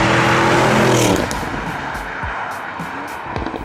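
A TECHART-tuned Porsche Cayenne with a power kit roars loudly as it launches hard, then the noise drops off quickly as the vehicle pulls away.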